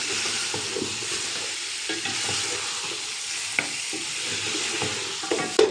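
Beef trotters fry and get stirred with spices in a pan, a steady close sizzle under repeated scraping, clinking stirs that come every second or so and get louder near the end.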